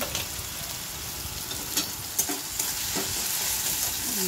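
Tomatoes fry with turmeric and salt in a pan as the base for a potato masala. A steady hissing sizzle runs throughout, broken by a few soft stirring scrapes, with no talking.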